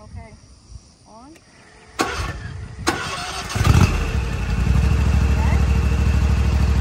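A zero-turn lawn mower's engine cranks with a couple of sharp clicks, then catches and settles into a steady, loud rumbling idle close by, with brief speech beforehand.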